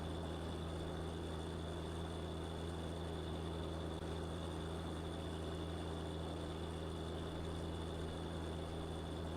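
A tractor engine in Farming Simulator 19 drones at a steady idle-like hum, low and constant with a faint tonal whine throughout, quiet and alone with no speech.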